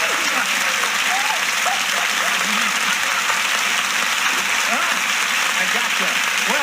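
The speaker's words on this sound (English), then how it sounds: "a little polite applause as I welcome the new kid on the block here" Polite applause from a studio audience on a comedy radio show, steady close clapping throughout with brief voices and laughter mixed in underneath.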